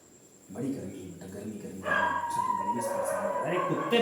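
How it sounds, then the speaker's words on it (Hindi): Dogs barking and yipping near a classroom setting, several short barks and howl-like calls at moderate distance, overlapping with a voice talking throughout. "अरे कुत्ते बहुत भौंकते हैं यहाँ पे बहुत कुत्ते हैं"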